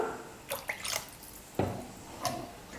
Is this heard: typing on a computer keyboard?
no